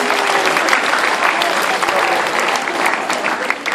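High school leavers' audience giving a round of applause, loud, dense and sustained clapping close by with crowd noise mixed in.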